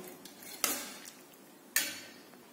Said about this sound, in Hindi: अब मैं इन्हें अच्छे से चम्मच की हेल्प से मिक्स कर लूंगी।